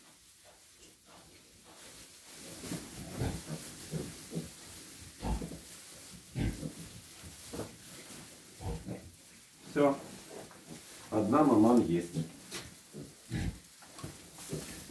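Piglets in a pen give short, intermittent grunts and oinks, close by, with a louder squealing burst near the end, while a person talks between the sounds.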